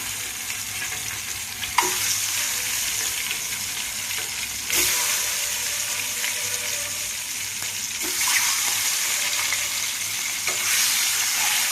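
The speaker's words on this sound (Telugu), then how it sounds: "ఆయిల్ వేడెక్కింది కదండి గుడ్లు అయితే వేసుకుందాం" Eggs fry in hot oil in a pan as part of a ridge gourd, dried shrimp and egg curry, giving a steady, close sizzle throughout with a few louder crackling bursts.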